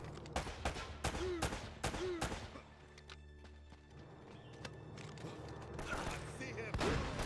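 Shotgun blasts in a video game, several sharp loud bangs at uneven intervals, heard with game sounds and some talking.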